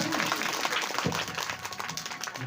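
A crowd at a religious Bhagwat katha gathering applauds, a continuous wash of clapping from many hands, fairly even and sustained, with faint voices mixed in.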